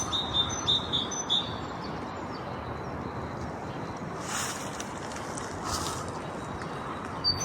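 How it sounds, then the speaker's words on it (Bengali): A bird chirps in a quick series of high, thin calls near the start, then falls quiet over a steady outdoor rush of wind and water in a park in Germany. "এই যে কিচির করে যে পাখিটা ডাকতেছে"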